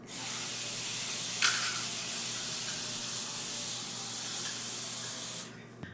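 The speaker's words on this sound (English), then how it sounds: "I'm gonna spray my pan to make sure it doesn't stick." Cooking spray hisses steadily from an aerosol can onto a cake pan for an Iranian roll cake, one long continuous spray lasting several seconds, close and fairly loud, then cutting off abruptly.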